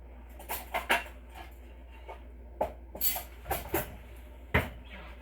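Cutlery clinks and a butter knife is picked up in a kitchen while making melt-and-pour soap bars: several light, sharp metallic taps and clatters, scattered and irregular, fairly close and quiet, with no talking.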